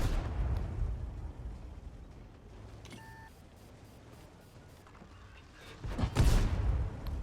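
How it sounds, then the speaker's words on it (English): Heavy tank cannon fire in World of Tanks, including shots from an FV4202, booming as deep distant thuds with a louder blast near the end over constant low battle rumble. "Bouncing shots in from the FV4202"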